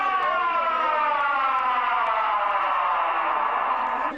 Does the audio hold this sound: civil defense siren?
yes